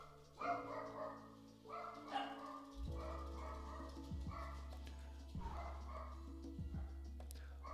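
Several dogs bark in repeated bursts against a steady low hum, the barks loud and fairly close, coming in clusters across the whole stretch with brief pauses between.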